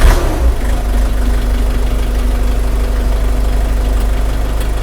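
ENEY TY404C mini tractor's small engine idles steadily up close, a continuous low mechanical hum and rumble with a faint knocking texture, no talking over it.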